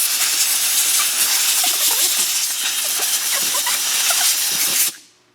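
Compressed air blasts steadily in a loud, close, continuous hiss, drying a cleaned transmission filter magnet from a 2008 Toyota Corolla, then cuts off abruptly near the end.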